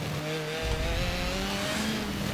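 Race car engine in Forza Motorsport 7 drones steadily at high revs, its pitch shifting through gear changes, loud and continuous with faint tire noise underneath.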